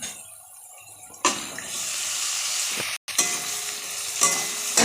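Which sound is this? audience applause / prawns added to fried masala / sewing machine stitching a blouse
prawns added to fried masala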